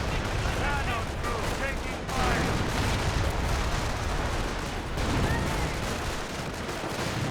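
Sector artillery and gunfire in the World War II strategy game Company of Heroes form a dense, steady barrage of shots and rumbling blasts that runs through the whole stretch, with a voice talking over the battle.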